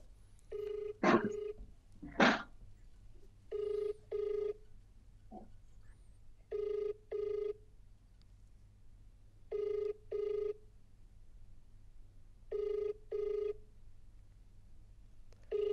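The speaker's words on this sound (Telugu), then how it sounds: "కాల్ రింగ్ అవుతుంది" Outgoing phone call ringback tone from a dialed mobile number, a faint repeating double-burst ring at regular intervals with quiet line noise between, preceded by a couple of brief louder sounds.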